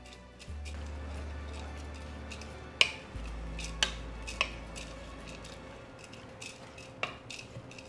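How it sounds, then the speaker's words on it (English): A spoon stirring pumpkin seeds, dried cranberries, cinnamon and salt in a bowl, giving soft scraping and rustling with a few sharp clinks against the bowl, fairly quiet and close. "Get that all stirred up."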